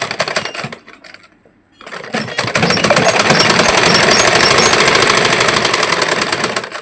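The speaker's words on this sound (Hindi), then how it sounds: "ऊपर से एक ही सिलाई लगा लेना है" A sewing machine stitching a blouse, a loud rapid mechanical rattle that starts, pauses briefly into near quiet, then runs on steadily close by.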